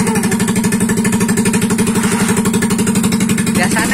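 Yamaha Mio scooter engine, started with the electric starter, running in a loud, close, steady rhythmic chug throughout.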